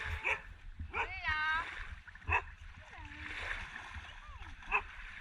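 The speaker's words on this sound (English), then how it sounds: "The dogs also come to welcome us," Dogs greeting visitors at a rural subsistence homestead, giving soft whines and whimpers close by while people talk over them.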